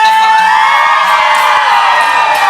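A concert crowd at an outdoor Hakka music festival in Xinwu, Taoyuan screams and cheers in a loud, continuous, high-pitched roar with whoops and shouts.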